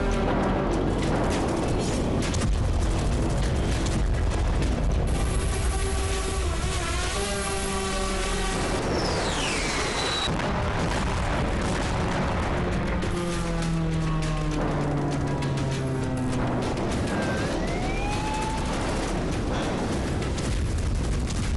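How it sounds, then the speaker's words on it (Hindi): Drone strike explosions on a weapons depot and an oil depot, heard as a continuous loud roar with booming blasts and rumbling, with whistling tones sweeping through the noise. "कहीं हथियार गोदाम तबाह हुआ तो कहीं ऑयल डिपो बारूदी गुबार से धधक उठा।"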